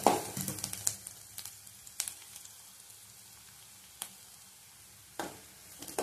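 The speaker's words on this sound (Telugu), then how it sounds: "ఇలా బాగా వేయించుకోవాలి." Oil sizzles softly and steadily in a pan while tomato curry cooks, with a few light spoon clicks and scrapes against the metal.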